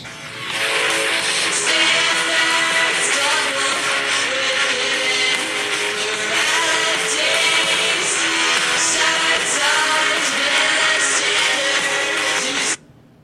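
A grungy 90s-style rock song plays loud and dense with steady full-band sound from start to an abrupt cut near the end, no talk over it.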